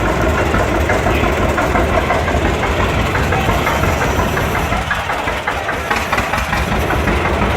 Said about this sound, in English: That is a very loud tractor.